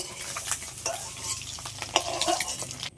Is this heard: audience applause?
no